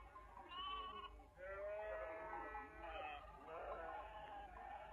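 Sheep bleat several times in a dry outdoor setting, wavering calls rising and falling close by with brief gaps between them.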